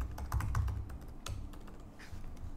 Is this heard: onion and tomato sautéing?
no